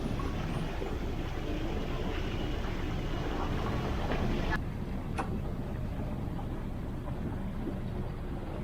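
Sailboat moving through water at 7.5 knots, a steady broadband rush of water and wind along the hull that drops slightly in level partway through, with a couple of brief knocks.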